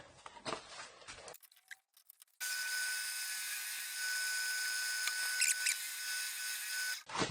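A steady, high-pitched whining drill with a Forstner bit boring a blind hole in wood runs continuously for several seconds after some brief scraping and clatter, then cuts off.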